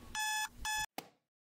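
Alarm clock in the video game Butterfly Soup 2 ringing in two loud electronic beeping bursts, followed by a short click as it is cut off, then silence.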